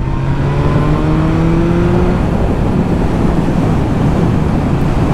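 A BMW S1000R motorcycle at full throttle in fifth gear from about 70 km/h on a country road: a loud engine drone rising in pitch under heavy wind rush, continuous and close.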